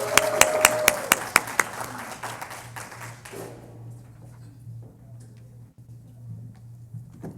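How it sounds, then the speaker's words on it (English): A few people clap at a student advisory council meeting, sharp distinct claps close by for about three seconds, then they stop and a quiet room with low hum remains. "just one last round of applause for our great Breakfast of the Board this year"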